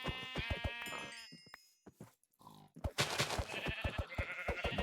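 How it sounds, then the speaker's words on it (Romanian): Sheep in a Minecraft hardcore world bleat in a wavering call at close range, followed by a busy stretch of game sounds and clicks. "Și am văzut oițe."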